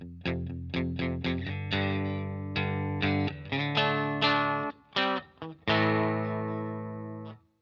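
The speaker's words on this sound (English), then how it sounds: "the full range of distortion may often suddenly or gradually kick in." Electric guitar played through an amp as the input gain is turned up, a string of picked chords and single notes with a thick, saturated distortion tone and sustained crunchy harmonics, loud and alone with no talking.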